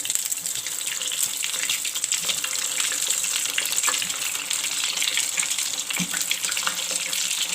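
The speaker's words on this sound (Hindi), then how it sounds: "अब हम इसको डीप फ्राई करेंगे।" Potato lollipops deep-frying in hot oil give a steady, dense sizzle and crackle close by, an unbroken bubbling hiss with occasional pops throughout, and no talking.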